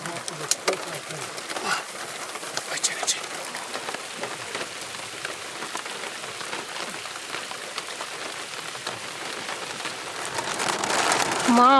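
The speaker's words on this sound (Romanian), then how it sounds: "Și a început ploaia." Rain begins pattering steadily on surfaces at a lakeside campsite on Lake Vidra, a dense soft hiss that builds toward the end while doves coo nearby and voices speak faintly.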